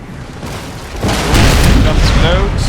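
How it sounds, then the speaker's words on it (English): Warship cannons fire in a naval battle in Napoleon Total War, a dense, rumbling barrage that swells after the first second into sustained booming, with a voice talking over it. "Now all my ships, I believe, are firing at the enemy."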